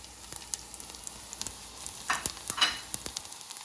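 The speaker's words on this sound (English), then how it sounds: "Let's put the garlic in there." Thinly sliced garlic hits a hot pan and crackles in a soft, steady sizzle, with a couple of louder spits and stirring scrapes about two-thirds of the way through.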